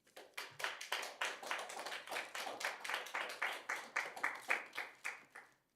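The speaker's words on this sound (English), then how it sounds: "There's no need for applause." Audience applause fills a council chamber at a city council meeting, a steady run of close, dense hand clapping that holds for several seconds before tapering off at the end.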